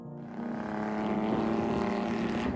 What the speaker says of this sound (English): its 3-cylinder engine creates an equally impressive sound